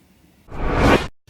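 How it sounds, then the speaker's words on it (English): A train's brakes give a loud, broad hissing squeal that swells over about half a second and then cuts off abruptly, heard near in an otherwise quiet setting. "that was the train brakes."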